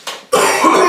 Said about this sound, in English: do something about this cough